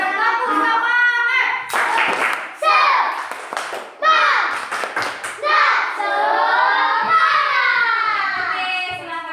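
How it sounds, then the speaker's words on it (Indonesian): A class of children gives a rhythmic spirit clap, bursts of sharp claps punctuating loud chanted voices in a steady pattern, close and lively. "Kita beri tepuk semangat."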